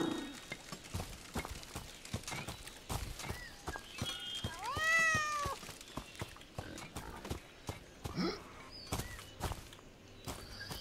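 A cat in a medieval video game meows with a rising-falling cry midway, amid steady clip-clop hooves and footsteps, a horse whinnying nearby.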